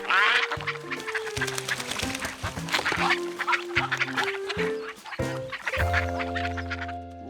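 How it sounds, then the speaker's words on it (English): Cartoon ducks quack and chatter in a busy, close flock, calls overlapping in quick bursts with a few longer honking notes near the end. "If ducks swam all around, it meant he was floating down river"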